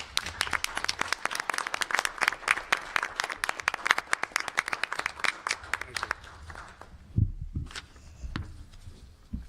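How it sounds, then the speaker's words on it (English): A small audience at a city council meeting claps for an honoree, a rhythmic patter of individual hand claps lasting about six seconds before fading into quiet room noise and a few thumps. "Would you all please join me in a round of applause for our newly honored Franco-American Man of the Year, Mr. Albert Bopelant."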